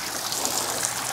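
Water from a leaking laundromat water tank gushes out continuously at full force, a dense, rushing, splashing roar close by with no pauses.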